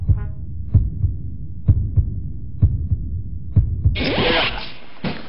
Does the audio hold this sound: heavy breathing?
no